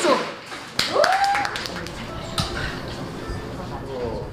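People at a café in Geoje clap for the owner in a brief burst of sharp claps, followed by cheering voices and chatter.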